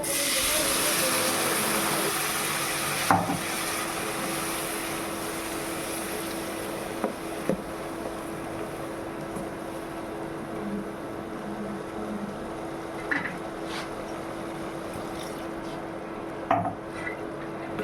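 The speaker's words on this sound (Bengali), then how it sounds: "এখন একটু জল দিব, সামান্য জল দিন, বেশি দিতাম না।" A little water poured into a hot pan of spiced cooking food sets off a continuous hissing sizzle that carries on steadily, with occasional small pops and clinks over the long, even steam noise.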